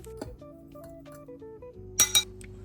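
Milk bread ingredients get a quick stir in a glass bowl, giving a few soft scrapes and then two bright, quick clinks of utensil against glass near the end, close and alone.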